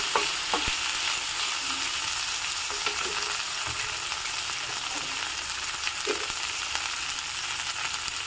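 Sliced okra fries in a pan, a steady close sizzle running throughout, with occasional light scrapes and taps as it is stirred.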